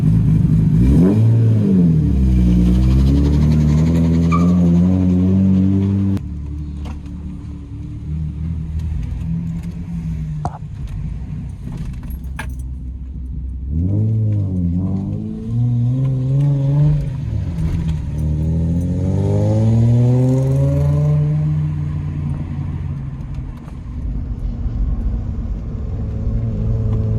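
A Lexus SC300 fitted with a custom exhaust and resonator delete revs loudly and close, its engine note sweeping up and down in repeated pulls, with a deep rumble holding between revs and no one speaking.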